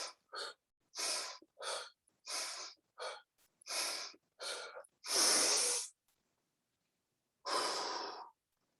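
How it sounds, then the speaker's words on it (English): A single person takes a series of slow, relaxing deep breaths close to the mic, each inhale and exhale a separate airy burst with pauses between, ending in a couple of longer drawn-out breaths. "take a couple of nice relaxing breaths"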